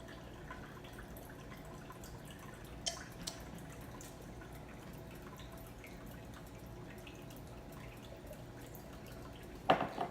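Liquid trickles slowly from a bottle with a slow-pour spout into homemade BBQ sauce, making a faint, steady pouring sound with a couple of soft knocks near the end.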